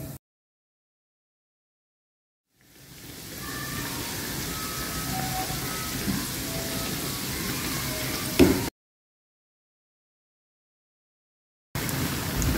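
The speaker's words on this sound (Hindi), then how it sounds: "अब मैं इसमें ब्रेड पैटीज़ डाल दूँगी और इसे फ्राई कर लूँगी दोनों तरफ से" Chicken bread patties drop into hot oil and fry with a steady, close, broadband sizzle lasting several seconds, bracketed by silence before and after, with one brief louder pop near the end.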